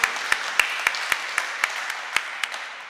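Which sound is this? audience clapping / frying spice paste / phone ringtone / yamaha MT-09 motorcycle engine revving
audience clapping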